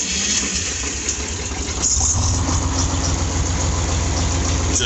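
A block-heated tractor engine cranks briefly and then catches into a loud, steady low idle close by.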